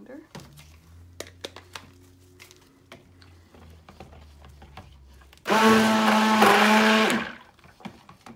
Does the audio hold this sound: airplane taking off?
no